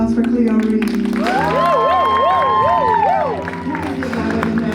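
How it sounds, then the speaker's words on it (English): An audience at a presentation featuring the robot Bina48 applauds and cheers, with whoops and a warbling shout rising over the crowd noise before easing off near the end. "Let's give another round of applause for Cleo Reed."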